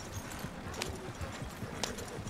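Hooves clip-clop rapidly as a horse gallops in Red Dead Redemption 2, a quick steady rhythm of close thuds with a couple of sharper bright strikes, fairly faint and with no speech.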